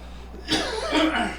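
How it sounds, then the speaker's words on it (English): A short burst of coughing erupts after a brief pause during a livestream, close and fairly loud, lasting about a second. "Pardon me, I have to cough."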